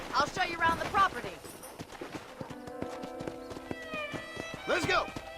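Hooves clip-clop steadily on a ranch in Red Dead Redemption, a close, rhythmic run of knocks beneath voices that speak at the start and again near the end.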